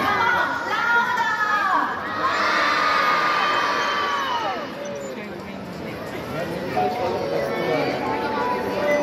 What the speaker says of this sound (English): Now let's all shout his name!